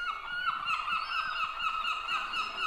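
A voice imitates a seagull, giving repeated nasal, honking cries in a quick steady rhythm, loud and close, with no other sound around them.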